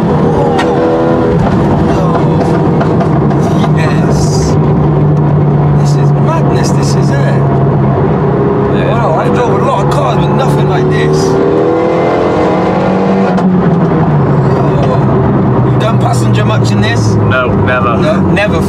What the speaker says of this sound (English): I can hear a disgusting loud exhaust that just sounds